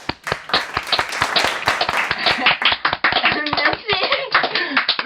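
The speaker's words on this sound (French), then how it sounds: "On l'applaudit mes amis!" A studio audience claps loudly for a special guest on a French-language interview show, sharp individual claps bunching into steady applause close up. Voices talk over the clapping throughout.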